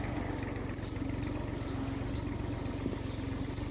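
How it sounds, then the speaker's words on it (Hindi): A tractor pulling up peanuts in a field runs with a steady, close mechanical engine drone and rapid regular chugging throughout, no talking. "ये इस तरह से ट्रैक्टर चलता है एक सीधी लाइन में"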